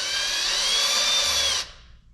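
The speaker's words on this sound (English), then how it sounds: "So we're going to slowly start drilling" Power drill boring into a bolt on an Evo 8 engine, a steady high-pitched whine that runs for about a second and a half, then stops abruptly, close by.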